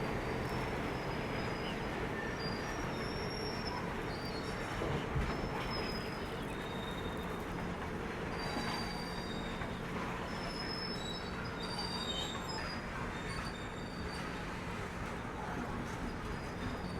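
Pune Kolkata Humsafar Express pulling into platform 1 at Nagpur station, a continuous rolling rumble overlaid by thin, high wheel squeals that come and go throughout.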